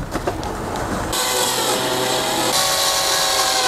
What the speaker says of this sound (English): I'll do the same thing with the aluminum ductwork for the bottom side, except I'm only going to cut it 12 inches.